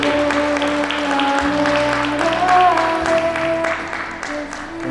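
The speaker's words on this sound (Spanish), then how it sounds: "Despedimos con un fuerte aplauso a este grupo de la promoción de cuarto año medios" A crowd claps for a graduating fourth-year secondary class of 2021, a broad wash of applause running under a steady sustained hum and some background voices.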